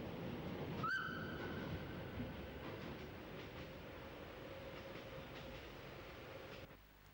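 Glacier Express train on the Furka Oberalp Railway climbing eastwards into the Goms valley, a steady rumble of wheels and carriages rolling past with a brief high whistle-like squeal near the start, fading to quiet at the end.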